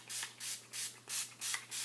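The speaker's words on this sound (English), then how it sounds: "I'm going to be using the Urban Decay All Nighter Setting Spray." Urban Decay All Nighter setting spray mists out in six quick, evenly spaced hissing bursts, close and soft with a steady low hum underneath and no talking.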